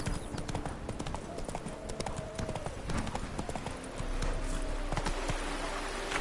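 Horse hooves clip-clopping at a galloping pace in The Witcher 3: Blood and Wine video game, a quick continuous drumming rhythm with brief whinny-like tones and a low rumble joining near the end.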